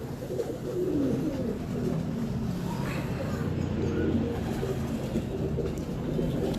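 Pigeons at a loft during a pigeon-keeping session coo steadily in a dense, low, continuous murmur from several birds, with faint background voices mixed in.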